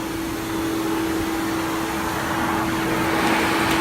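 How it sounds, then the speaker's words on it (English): A central vacuum system runs through a wall port in a multi-floor house, making a steady, loud suction roar with a constant hum throughout and no talking. "Now I've got vacuum."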